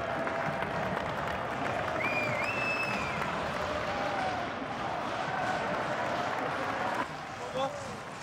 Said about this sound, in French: On peut les applaudir, ils ont mérité leur victoire.